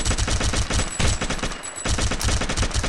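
Rapid automatic fire from a SCAR rifle with a drum magazine in the zombie mode of Gun Builder ELITE 2.0, a loud continuous burst of shots with a brief pause midway.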